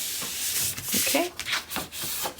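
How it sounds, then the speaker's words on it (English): Paper being burnished into place on a mini album page, heard as a few quick close rubbing strokes with a hiss of friction and a faint voice underneath. "Let's burnish that into place."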